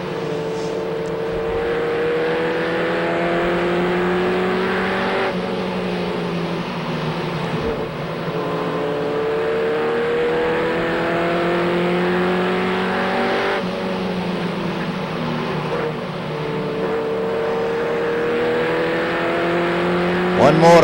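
Race trucks circling Seekonk Speedway near the end of a feature race, a continuous loud roar of engines with shifting pitch as the pack passes, steady throughout.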